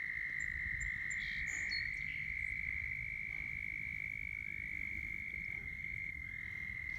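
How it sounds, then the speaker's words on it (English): Frogs croak steadily in a dense, continuous chorus at a farm, loud and unbroken, with faint bird calls above. "And the frogs are loud today."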